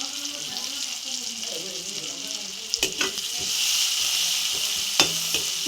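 Chopped onions fry in oil in a pan with a soft steady sizzle, broken by a few sharp clatters of utensils against the pan, while a voice talks faintly in the background.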